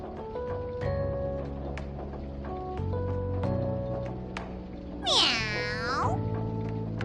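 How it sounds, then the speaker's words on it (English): A game cat in Persona 5 Strikers meows repeatedly, a string of clear, close, pitched mews over a steady musical backdrop, with one long sweeping whoosh rising and falling near the end. "Meow."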